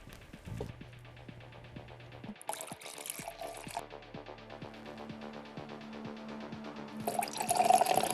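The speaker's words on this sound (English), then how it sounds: "Would you like me to pour the drinks for you and your guests?" Alcoholic drinks being poured for guests: a soft, steady trickle of liquid with light drips, fairly quiet against a low background hum.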